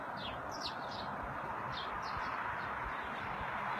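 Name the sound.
flock of birds chirping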